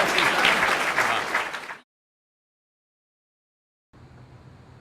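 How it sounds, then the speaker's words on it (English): An audience applauds Chicago Sun-Times reporters at an election review event. Loud, dense clapping fades out within about two seconds, followed by silence and then quiet background sound. "How about a big round of applause for our folks here?"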